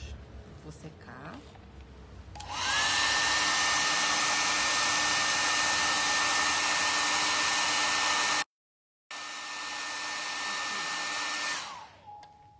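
A hair dryer blasts steadily at close range over a freshly painted decorative craft piece, cutting out briefly and then starting again. Voices are faint before it switches on.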